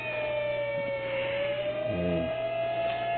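A long, steady police car siren tone holds over a low rumble, somewhat distant, with a faint voice briefly underneath.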